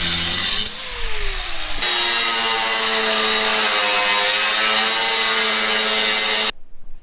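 A power saw cuts a piece for a pump fitting on a flexi truck, loud and close. It starts with a shifting whine, settles into a steady grinding drone for several seconds, then stops abruptly.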